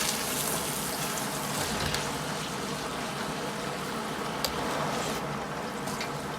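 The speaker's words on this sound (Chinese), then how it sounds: "然后再倒入开水或者是鲜汤" Boiling water or hot broth pours steadily into a wok for braised fish, a continuous wet rushing and sizzling wash that stays even throughout, with no talking.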